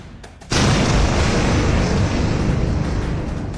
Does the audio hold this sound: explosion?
yes